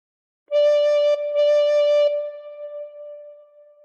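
A recorder, played with fingers covering holes one to six and the thumb hole closed, sounds two clear blown notes at the same pitch. The first note is short and the second is held and then fades, alone and close.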